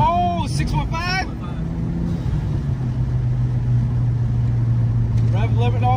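A 2022 Subaru WRX with an ETS intake and Dmann tune revs hard toward its rev limit, a loud steady engine drone building under excited talk from occupants inside the car.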